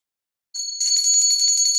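A small souvenir replica of the Liberty Bell, bought in Philadelphia, is struck and rings with a bright metallic tone. A short first strike is followed by a sustained, shimmering ring that stays loud and close with no voices.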